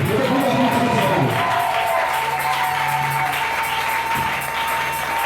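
A church congregation applauds and cheers loudly and continuously, with a dense wash of claps and crowd voices under faint singing or speaking tones throughout.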